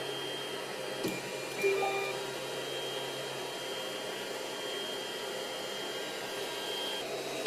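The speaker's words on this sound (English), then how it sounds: "So now let's move some motors and see how it goes from there." 3D printer stepper motors running, a steady whirring hum with a faint high whine over fan noise, a couple of brief tonal chirps early on, moderate and constant throughout.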